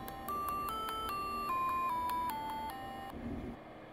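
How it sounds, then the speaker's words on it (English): A Lego Spike hub plays a string of clear electronic beeps, a descending melody of about eight even, close tones stepping down in pitch, alone with no talking. "And that's how you make the beeps work."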